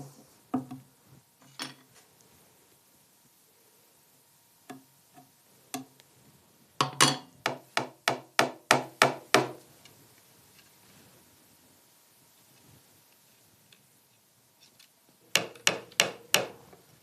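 Nails are hammered through woven cane into a chair seat, in sharp close taps that come singly at first, then in quick bursts of around eight blows, with quiet pauses between bursts and no talking.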